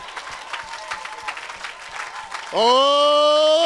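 A church congregation claps and cheers for Jesus, a busy spread of applause under crowd noise that gives way abruptly to a loud, sustained ringing tone.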